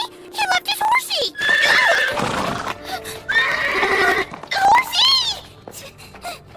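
A horse in an anime lets out loud, wavering neighs and whinnies, set among other cartoon sounds and close voices.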